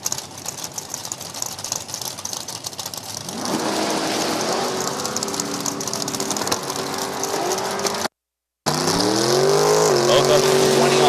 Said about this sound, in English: Second gen Camaro over in the left lane.